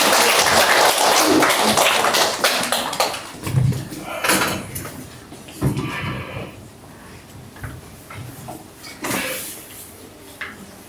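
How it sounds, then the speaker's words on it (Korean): An audience at a middle-school academy information session applauds to welcome a speaker, with loud clapping at first that gradually thins into scattered claps and thumps as the room settles. "우리 최준 나이쌤 연구소장님을 큰 박수로 맞이해 주시길 바랍니다"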